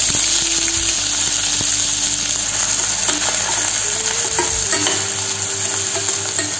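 Onions sauté for mutton masala in a pan with bay leaves, cinnamon, cloves, black pepper and stone flower: a loud, steady sizzle with occasional clinks of stirring, and no voices.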